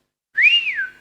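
A storyteller's clear, close whistle imitates a rat, a single rising-and-falling tone that starts after a brief silence and holds for about half a second.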